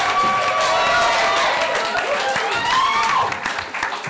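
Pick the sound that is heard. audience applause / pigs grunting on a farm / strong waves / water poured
audience applause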